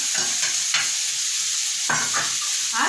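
Fried potatoes and pointed gourd go into a pan of sizzling spice paste made with Kashmiri chilli powder, with a steady hiss of frying under repeated scraping stirs of a spoon against the pan, close and fairly loud.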